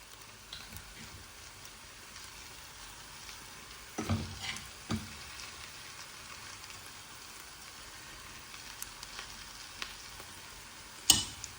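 Sri Lankan kothu roti is mixed with meat in a pan, a faint low sizzle with scattered scraping and knocking strokes, a few sharper clanks standing out, no voices.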